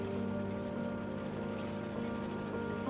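Steady rain falls in South of the Circle, a continuous even patter with a low droning hum beneath it, constant and moderately loud throughout.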